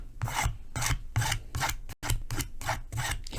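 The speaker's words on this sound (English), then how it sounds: "Is all I did was use a scraper, and I just scraped it one way." A scraper drags over a dot painting in one direction, making a rhythmic series of close, loud rasping strokes, about seven or eight in quick succession, with a brief pause midway.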